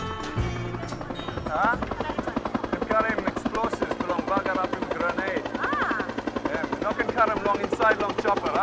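Helicopter flying over Bougainville, its steady rapid rotor chop loud and continuous against a droning engine, with voices over it.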